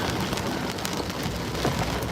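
Rain from a hurricane pounds down in a continuous loud roar, a steady wash of drops hitting surfaces with a few sharper spatters rising out of it.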